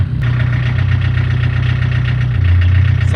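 A Chevrolet Chevette engine idles just after starting, a steady low, slightly rough rumble heard close and loud with an even pulsing beat throughout.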